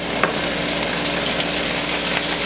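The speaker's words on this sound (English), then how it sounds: "we're going to add all of our veggies and then mix them up" Potatoes, celery and carrots sizzle steadily in a Calphalon braising pan as they are mixed, a close, continuous frying hiss with faint stirring scrapes and no talking.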